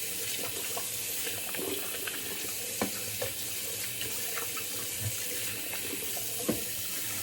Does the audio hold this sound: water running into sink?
yes